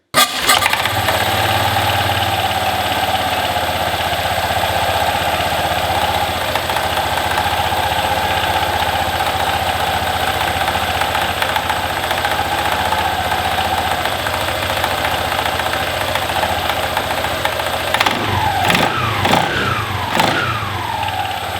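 A Honda PCX150 scooter engine runs steadily on a test drive after a drive belt and slider weight replacement, a continuous loud buzzing hum throughout, with a few sharp clicks and knocks near the end and no talking.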